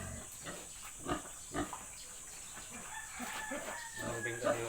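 A sow awaiting artificial insemination grunts on a small farm, giving a few short bursts among crowing and clucking poultry, with faint voices in the background.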